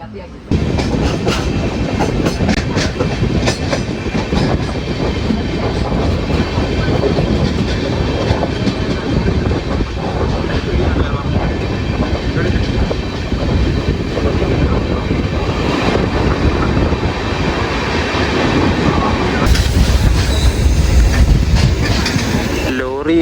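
A RoRo freight train, hauling loaded trucks on flat wagons, rolls steadily past on the Konkan Railway, a continuous loud rumble with rhythmic clickety-clack of wheels over rail joints throughout, growing briefly harsher near the end.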